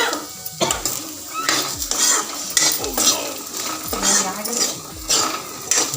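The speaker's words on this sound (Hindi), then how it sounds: "अभी टमाटर डाल देवे कर" Tomatoes go into a hot pan and are stirred with a utensil, bringing repeated metallic scrapes and clinks against the pan over a soft sizzle while a regional vegetable dish is cooked.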